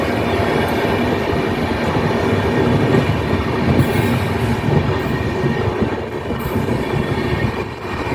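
An electric train rolls past close by, a loud, continuous broadband rumble and roar with rhythmic wheel clatter that holds steady throughout, with no talk.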